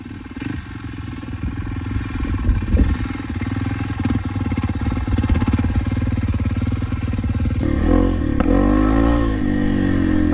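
Steady, loud drone of a 250R motorcycle engine held at low revs during slow wheelie practice, with the pitch shifting and surging near the end as the throttle is worked, close to the recording point.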